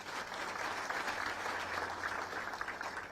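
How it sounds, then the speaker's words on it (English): Sustained applause from an audience honouring sponsors at an athletics event, a steady wash of many hands clapping at moderate distance with a low hum beneath. "Perhaps you can just give them a clap."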